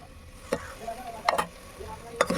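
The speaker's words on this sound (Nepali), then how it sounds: "मसला आलुमा चाहिँ त्यहाँबाट चाहिँ मजाले यसरी चलाउने" Masala-coated potatoes and chopped tomatoes cooking in a pressure-cooker pot, heard as a soft, low sizzle with a few sharp scrapes and taps of a stirring spoon, close and quiet, with no talking.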